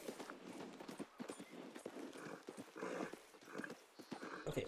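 Horse hooves clip-clop steadily through Red Dead Redemption 2 gameplay, a close, repeated trotting rhythm with a brief whinny-like note, no talk over it.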